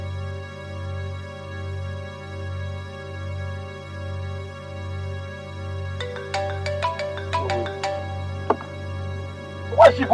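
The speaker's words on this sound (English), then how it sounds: "Why is she even calling my phone?" A mobile phone ringtone plays for an incoming call, a bright melodic electronic tune entering partway through over a steady pulsing drone, clear and fairly loud, ending with a sharper burst.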